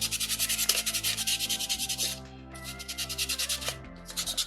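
Sandpaper rubs on a small soapstone shark carving in quick, rhythmic back-and-forth strokes, close and alone, with one short pause midway.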